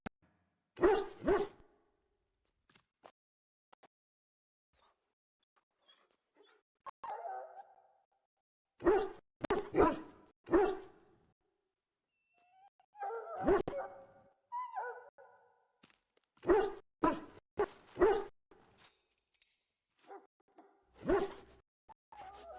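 An injured dog in a video game gives a series of sharp barks and yelps in irregular bursts, separated by softer whimpers and quiet gaps, close and clear.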